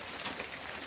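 Rain falls steadily outdoors, a soft dense patter of drops on surfaces forming an even hiss with no voices over the brief moment.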